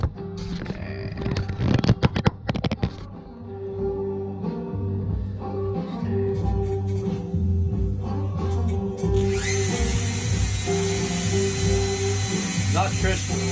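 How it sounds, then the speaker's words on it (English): A Dremel rotary tool engraving a steel takedown bow gives a near, steady high whine with intermittent bursts of grinding and scraping, after a few sharp clattering knocks at the start. "Got the old Dremel here."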